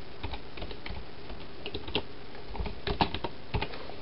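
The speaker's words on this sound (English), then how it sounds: "And I will write some more text back to the screen." Rapid typing on a computer keyboard while entering text into a serial terminal for an LCD backpack, a steady stream of close, light key clicks with a few louder taps and no talk.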